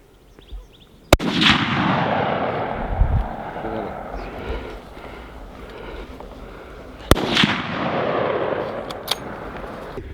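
Two loud rifle gunshots during an outdoor wild pig hunt in California, about six seconds apart, each a sharp crack followed by a long rolling echo across open terrain, with faint talk in between.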